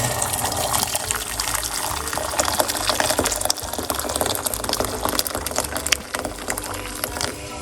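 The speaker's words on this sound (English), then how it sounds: "we are going to put 1 cup of hot water." Hot water pours steadily and splashes into a container, a continuous gushing flow with no talking.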